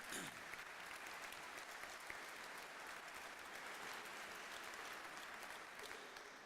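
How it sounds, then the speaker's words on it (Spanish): Crowd applause at a political conference, a steady wash of many hands clapping heard from a distance, sustained and even for the whole stretch. "Yo voy a pedir otro aplauso para Leopoldo."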